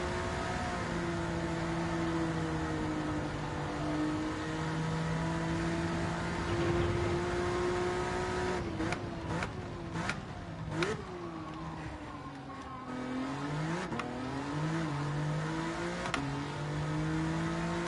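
A racing car engine in a video game revs steadily, its harmonic drone rising and falling, then breaks into a series of sharp blips and downshifts before settling back into a sustained rev, close and loud with no voices.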